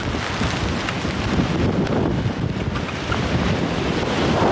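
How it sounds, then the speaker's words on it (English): Strong storm wind in Orkney roars steadily across the microphone, a loud, continuous broadband rush that buffets without pause and masks everything else. "Hope you can hear me over the wind."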